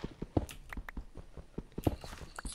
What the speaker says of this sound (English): I can hear its footsteps, dude.